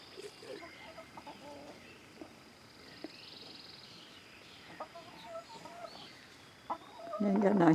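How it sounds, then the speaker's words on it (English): Chickens cluck softly and intermittently around their new summer coop with roosting and nesting spots, faint and somewhat distant, with a louder burst of clucking near the end. "There's our chicken's new home."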